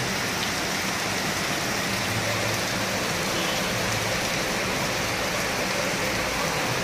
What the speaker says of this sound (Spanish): en medio de la lluvia